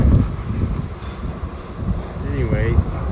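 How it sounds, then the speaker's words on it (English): Strong wind gusting outdoors through trees and knocking jerry cans about, a steady broadband rush with buffeting on the microphone, while a person speaks faintly underneath. "You can see how windy it is, blowing the trees around. It's blowing some jerry cans around too"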